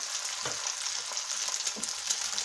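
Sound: egg frying in a pan

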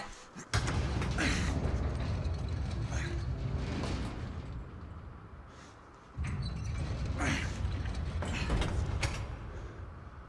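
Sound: door opening in The Order: 1886 video game

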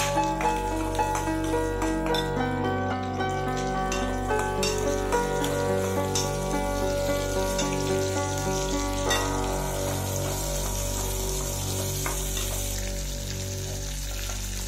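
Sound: garlic and onion sautéing in a pan for onion chutney

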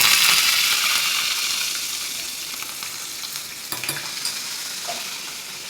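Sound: curry leaves sizzling in tempering oil

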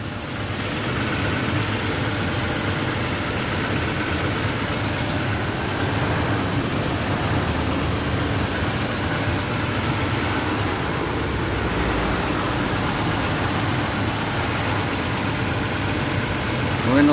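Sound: Toyota truck engine idling

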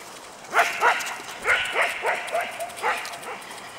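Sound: dogs barking at a dog park

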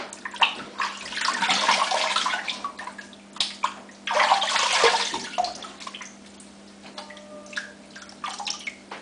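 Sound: water added to shaving soap while lathering

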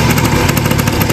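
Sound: rebuilt motorcycle engine revving with new carburetor

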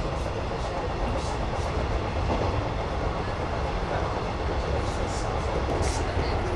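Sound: train running on rails

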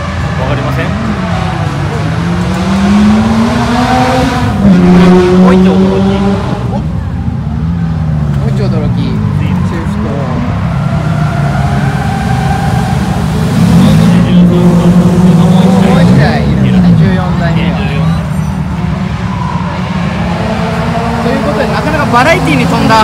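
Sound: cars drifting at Fuji Speedway short course

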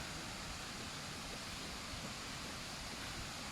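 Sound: waterfall at Mae Huai Khamin

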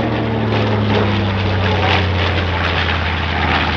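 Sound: B-25 Mitchell bomber flying at airshow

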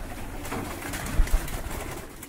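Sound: pigeons cooing in a loft

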